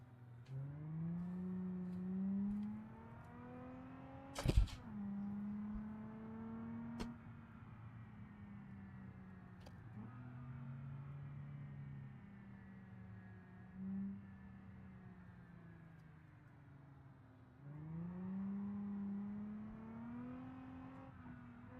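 A car engine in the video game BeamNG revs up and down repeatedly, its tone rising and falling through gear changes, with a sharp bang partway through; no voices.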